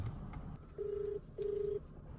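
A telephone call to a friend goes through: two long, steady electronic tones sound in succession, clear and level, with no voices.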